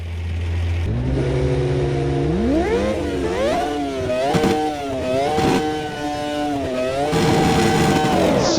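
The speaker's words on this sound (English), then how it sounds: "we have to listen to that amazing V10 engine" A loud V10 racing engine in the video game Automobilista 2 revs up and shifts repeatedly, pitch rising and falling in waves, sustained and close without any talking.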